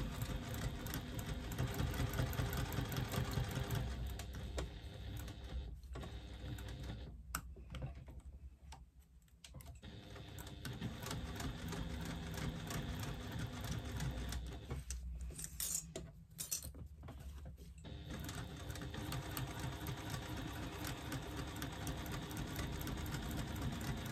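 A sewing machine stitches a seam on a fabric pouch, running in steady rapid bursts with two short pauses, a quiet continuous mechanical whir close by.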